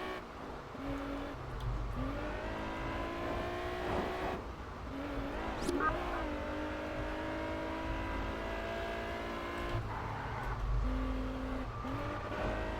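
A TVR Tuscan in Test Drive Unlimited corners hard, its engine revving and dropping through gear shifts while tires squeal and skid, a continuous game soundtrack of engine whine.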